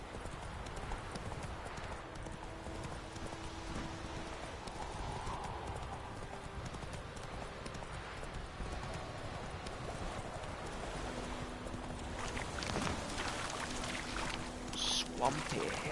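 Geralt's horse Roach trotting in The Witcher video game, a steady clip-clop of hooves over faint ambient game sound, fairly quiet, with a brief whinny-like cue late on.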